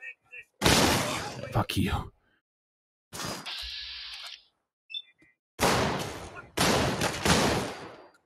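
Heavy video game shotgun blasts come in loud broadband bursts with silent gaps between them, plus some mechanical clatter, and a player curses in between.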